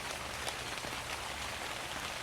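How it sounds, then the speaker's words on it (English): Steady rain falls with a dense, even patter of drops, continuous and fairly close throughout, with no voices. "Suddenly, a drop fell on Fennec Fox's nose, then another one, and another, as it began to rain."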